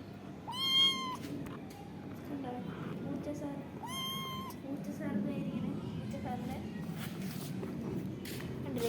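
A cat meows twice, clearly and fairly close, about three seconds apart, over a steady background of room noise and a person's voice.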